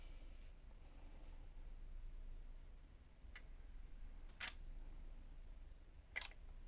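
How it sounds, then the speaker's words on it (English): A camera shutter in a toy photography setup fires as a few sharp, close clicks, each isolated against a quiet room hum with long pauses between. "I'm going to go ahead and hit that shutter."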